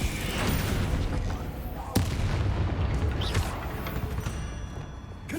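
Explosive spell blasts in the Hogwarts Legacy video game, a dense run of booming, crackling impacts with one sharp crack partway through, loud and close, mixed with a voice calling out spell names.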